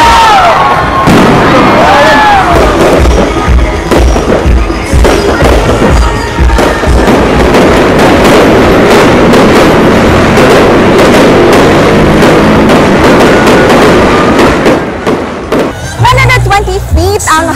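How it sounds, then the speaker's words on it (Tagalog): Grand fireworks display at the ceremonial lighting of a giant Christmas Tree of Hope at Fuente Osmeña Circle, with rapid loud booms, crackles and whistles over a cheering crowd, ending in a brief lull and further bursts. "ceremonial lighting sa Christmas Tree of Hope nga giubanan sa engrandeng fireworks display."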